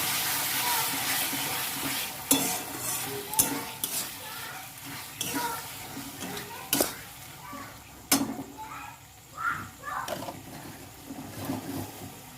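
Spice masala frying and being stirred in a pan with a little sauce, a steady sizzle broken by repeated sharp scrapes and knocks of the spoon against the pan, close and fairly loud.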